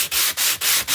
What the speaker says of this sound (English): I am just lightly sanding that.